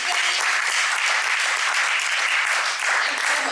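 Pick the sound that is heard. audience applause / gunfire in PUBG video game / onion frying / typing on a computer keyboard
audience applause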